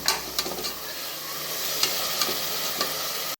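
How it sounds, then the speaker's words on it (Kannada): Turmeric frying in an oiled pan while cooking veg pulao, a steady dense sizzle with a few light stirring scrapes throughout. "ಸ್ವಲ್ಪ ಹಾಕಿ, ಸ್ವಲ್ಪ ಅರಿಶಿನ ಫ್ರೈ ಮಾಡಿ."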